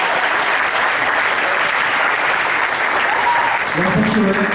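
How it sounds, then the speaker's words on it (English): Audience at a gathering of young legislators speaking against the RH bill applauding, loud sustained clapping that stays steady throughout, with a voice starting to speak near the end. "let's clap our hands for that"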